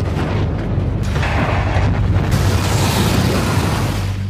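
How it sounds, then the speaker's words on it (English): A nuclear bomb explosion rendered as a sustained, heavy roaring boom with deep low rumble and dense noise, loud and continuous throughout with no voices. "A 15 kiloton nuclear bomb hits a major U.S."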